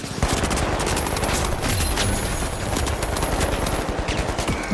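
Rapid automatic gunfire from a weapon in The Finals, a continuous dense burst of shots running loud and close through the whole stretch without pause.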